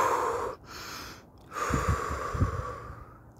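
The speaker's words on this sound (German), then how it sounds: "einfach tief atmen beim Gehen so." Deep breathing while walking after a cold winter bath in a river: close breaths, the first half dominated by hiss and rustle, then several heavy exhales and snorts near the end.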